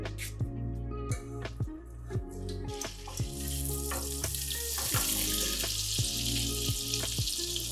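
Butter melting into about three to four tablespoons of hot sesame oil in a kadai over medium flame, giving a steady close sizzle with a bright hiss that builds and thickens partway through, with no voices.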